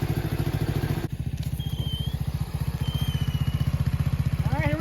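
A Honda Dax clone 125cc semi-auto motorcycle, an Ice Bear Champion, idles close by with a steady, rapid putter and a slight clatter that continues throughout.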